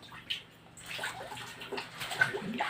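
Water poured from a dipper over a small child at bath time, a few irregular close splashes and sloshes against a quiet background, no voices.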